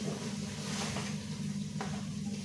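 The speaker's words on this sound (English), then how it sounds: "We're also going to go ahead and just stir this so all the seasonings meld and mix." Seasoned sirloin beef is stirred in a pot for a Cuban beef stew, a soft steady sizzle with light scraping and shuffling of the meat, close and low in level, with no talking.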